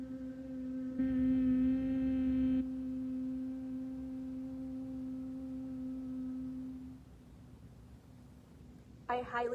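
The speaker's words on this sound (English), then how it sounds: "when you exhale, you create this humming noise, like a bee" A steady, low humming exhale held for several seconds like a buzzing bee, from bee breathing, swelling briefly louder near the start, then fading before a short noise.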